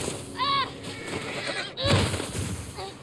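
A horse in The Last of Us Part 1 gives a short whinny, then a louder neigh with snorting a second later, with game ambience underneath and no talk.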